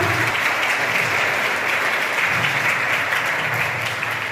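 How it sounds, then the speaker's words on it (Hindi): Loud, dense applause from an audience welcoming guests at a voter awareness program held at a girls' B.Ed college in Nawalgarh, a continuous wash of clapping that stays steady and close with no pauses. "जोरदार तालियों से एक बार इनका स्वागत करें।"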